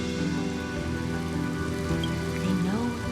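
Steady rain falls in the Honkai Star Rail video game, a continuous hiss of drops beneath sustained tonal music, with no voices.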